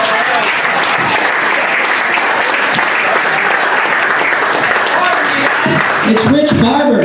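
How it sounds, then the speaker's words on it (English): Sustained applause from an audience after a comedy set, steady and full throughout, with a few voices and whoops rising near the end. "Give Rich a huge round of applause, man"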